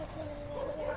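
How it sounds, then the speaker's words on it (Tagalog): A dog barks and whines outside, somewhat distant, while someone speaks nearby over it. "ang ingay ng aso ko sa labas"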